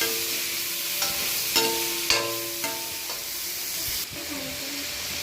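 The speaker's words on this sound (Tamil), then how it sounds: "இந்த ஸ்டேஜில் தக்காளி, புதினா, காளான் எல்லாம் சேர்த்துறேன். ஒருவே ஒட்டுக்காகவே சேர்த்துறேன். இப்போ இதை ஒரு வதக்கலாம்." Tomato, mint and mushrooms sauté in a hot pan for a rice biriyani, with a steady loud sizzle broken by several distinct stirring scrapes, close up and with no voices.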